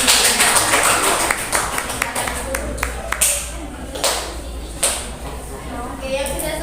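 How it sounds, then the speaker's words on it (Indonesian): Scattered claps from students in a classroom, a few sharp taps spread unevenly over several seconds against room murmur and low background hum. "tepuk tangan buat Citra."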